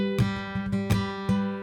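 Acoustic guitar played in a folk fingerpicking style, with a steady pattern of plucked notes and brushed strums, close and clear with no talking.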